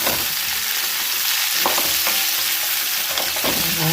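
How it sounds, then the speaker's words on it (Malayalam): Khatti meethi raw mango chutney masala is stirred over a medium flame. The spoon scrapes and knocks against the pan in close, loud strokes over a continuous crackling sizzle, with no voices. "ഒരു 5 മിനിറ്റ് വരെ മീഡിയം ഫ്ലെയിമിൽ വെച്ച് നന്നായി ഇളക്കി വെക്കുക"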